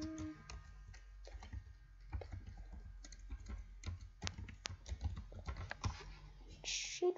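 Computer keyboard typing at a desk while coding, a quiet run of irregular clicks and short bursts of keystrokes with small pauses, close and fairly soft, no talking.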